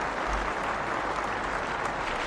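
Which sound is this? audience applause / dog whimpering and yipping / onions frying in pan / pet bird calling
audience applause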